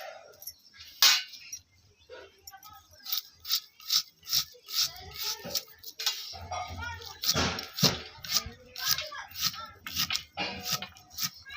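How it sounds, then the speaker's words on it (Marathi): A knife chops through an onion on a board in a home kitchen, giving repeated sharp, close knocks in uneven bursts with brief pauses and no talking. "आपण हा कांदा चिरून घेऊया"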